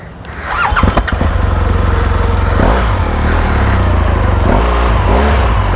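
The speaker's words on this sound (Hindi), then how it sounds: "थोड़ा सा गर्म कर लेते हैं बाइक को" BMW R18 First Edition motorcycle engine cranking and firing up, then settling into a loud, steady low rumble as it warms up, heard close with a few small blips and a faint squeal.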